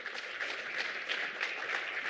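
Audience round of applause at a climate resilience symposium, a steady, even wash of clapping from a sizable crowd, moderately loud and continuous without individual claps standing out.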